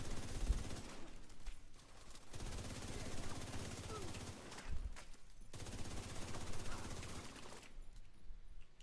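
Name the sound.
gunfire from shooting in the video game Division 2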